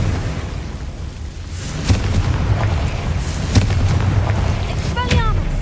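Confringo explosive spells burst in a Hogwarts Legacy battle: a few sharp booming blasts with crackling tails recur every couple of seconds over a steady rumbling backdrop, with a voice heard in the mix.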